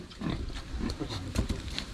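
A pig on a farm grunts and snuffles in short, soft bursts close by, with faint rustling and no speech.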